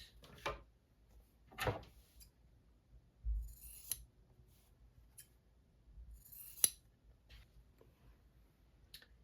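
Scissors trim the edges of quilt fabric pieces, giving a few short, quiet snips spaced a second or two apart, with light handling noises in between and no speech.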